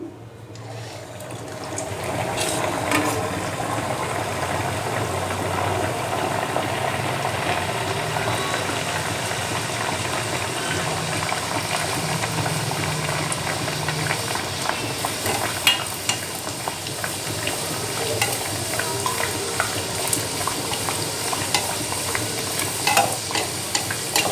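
Chicken keema puris deep-fry in hot oil with a steady, bubbling sizzle that runs nearly unbroken throughout, broken by occasional small clicks and crackles near the end.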